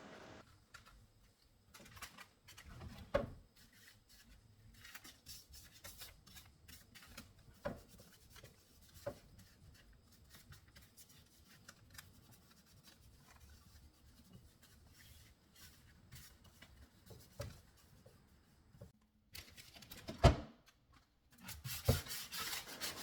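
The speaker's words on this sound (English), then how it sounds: "Using a sanding sponge, I am lightly and gently sanding the edges of the drawers" Soft, intermittent rubbing and rasping strokes of a sanding sponge on wooden drawer edges, quiet and close, with a few louder scuffs and knocks scattered through.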